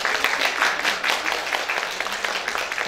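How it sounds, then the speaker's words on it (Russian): An audience at a creative evening applauds with a brisk, rolling patter of many hands, loud and continuous throughout. "Ваши аплодисменты."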